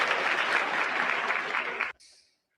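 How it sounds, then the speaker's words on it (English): An audience claps for a volunteer joining a comedy stream performer on stage, a dense round of applause that cuts off abruptly after about two seconds, leaving a brief faint tail. "Give her a round of applause, everybody."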